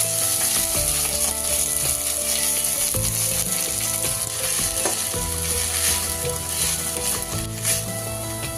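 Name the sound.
mint leaves frying lightly in oil in a pan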